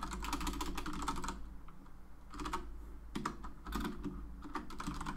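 Steady, close computer-keyboard typing while code is written, with fast clattering bursts of keystrokes broken by short pauses, under a low constant hum and without speech.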